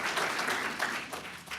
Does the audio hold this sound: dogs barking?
no